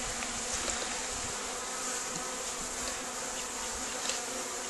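A dense, steady buzz of many honey bees close by around a hive, droning continuously with no voices.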